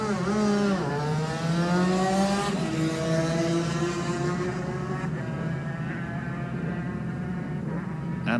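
A Honda racing motorcycle leaves the start of the Classic TT Lightweight race on the Isle of Man, its engine revving hard through rising gear changes, then fading as it pulls away.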